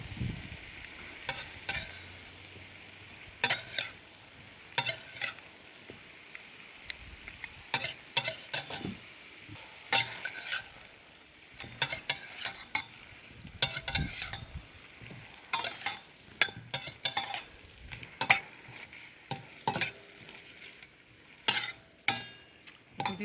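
Chinese broccoli stir-fried with garlic sauce in a pan: a soft sizzle under repeated scraping and clinking strokes of a utensil, irregular and close, with no voices.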